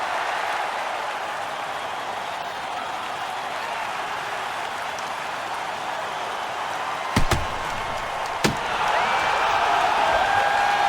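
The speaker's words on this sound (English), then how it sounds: "This crowd is pumped. Listen to the noise." Steady roaring crowd noise fills a hockey arena in the video game NHL 09, broad and continuous, with a couple of sharp thuds partway through.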